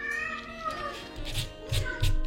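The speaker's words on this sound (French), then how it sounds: "il y a mes chats derrière" Cats meowing in a room behind someone doing nail gel removal, several drawn-out meows over a steady background hum, getting louder toward the end.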